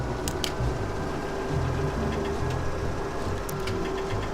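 A steady low tractor engine drone runs throughout, idling with a slight rumble and a few faint clicks on top, fairly close and constant, in the video game Farming Simulator 17.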